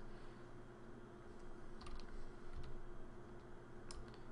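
Quiet, close typing on a computer keyboard in a Flash game, a handful of sparse, irregular key clicks over a faint steady hum, no speech.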